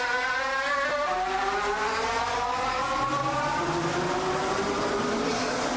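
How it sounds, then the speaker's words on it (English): Vancouver's SkyTrain whines steadily past, its rising and falling electric motor tones sweeping upward like a revving race car, loud and continuous with a low rumble beneath. "It's the sound of the SkyTrain in Vancouver."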